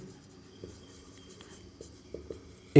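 Pen on paper writing out a math equation solution, a soft continuous scratching with a few short strokes and a louder tap at the end, close and quiet with no speech.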